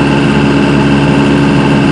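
Steady engine drone of a truck with an HE351VE variable-vane turbo, vanes fully open and boost dropping, a loud continuous hum with no talk.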